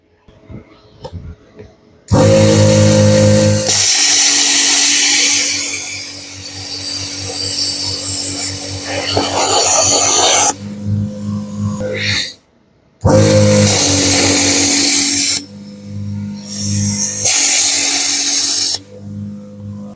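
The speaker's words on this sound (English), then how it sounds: "I'll see will a socket fit on it and screw it off then with the impact wrench" An impact wrench unscrews parts of a fertiliser spreader bogey in a workshop, with loud sustained bursts of whirring and rattling hammering, broken by short pauses and a final shorter burst.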